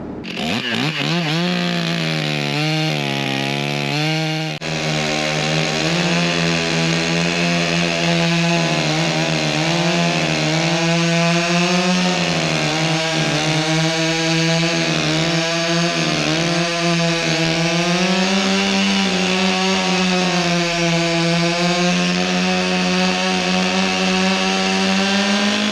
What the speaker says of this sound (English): It's chainsaw time!